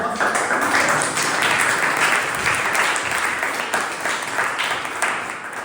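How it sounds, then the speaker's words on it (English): A Toastmasters club meeting audience gives a big round of applause for the evening's Toastmaster, a dense steady burst of clapping that carries on throughout at a loud, even level. "Let's have a big round of applause for Toastmaster Rahul."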